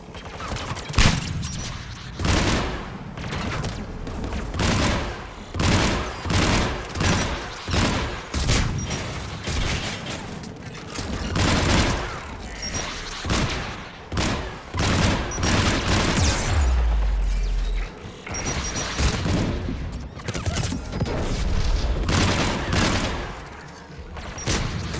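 Anti-aircraft guns in Mass Effect 3 fire in loud, rapid, repeated bursts of sharp booming shots, sustained for about twenty-five seconds with only short gaps between volleys.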